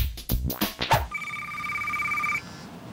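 A telephone rings with a sustained electronic two-tone ring that starts partway through after a burst of louder noise, then cuts off before the end.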